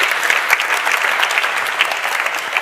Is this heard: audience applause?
yes